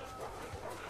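Dog sounds from the video game The Last of Us Part II, short yips and whimpers in a busy, dense game mix lasting about a second, moderately loud with no voices.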